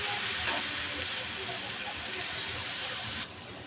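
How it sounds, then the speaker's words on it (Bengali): Spices fry in hot oil for a small fish curry with ripe tomato, producing a loud, steady hiss and sizzle that fills the whole clip and drops off slightly near the end. "মশলাটাও ভালোভাবে কষিয়ে দেব।"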